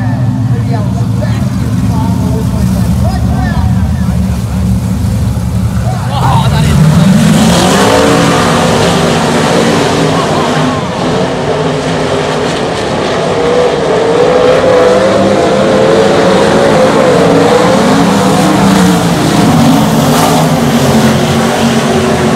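Small race cars at a weekend race speed past, engines droning and revving loudly with one car sweeping by in a rising pitch, under steady crowd and track noise with a voice talking over it.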